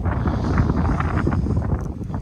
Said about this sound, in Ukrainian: не так лякає мороз, як сильний вітер